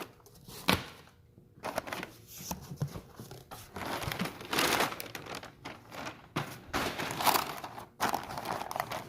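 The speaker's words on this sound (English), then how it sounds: "I've got the tape cut on the box. I have not opened this yet. So let's get it opened," Cardboard box holding a fuel tank kit for an LS swap being opened, with close, continuous crinkling, tearing and rustling of cardboard and packing material, quiet and irregular throughout.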